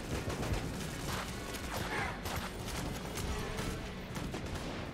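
Rapid, continuous gunfire from weapons in the video game Enter the Gungeon, a dense, steady barrage of shots filling the whole stretch at an even, fairly loud level with no pauses.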